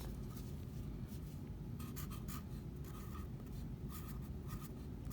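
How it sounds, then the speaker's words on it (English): A marker or pen scribbles across masking tape stuck on a clay slab, in short rasping strokes with brief pauses between them, close and fairly quiet, no voices. "So you're just gonna write over the name."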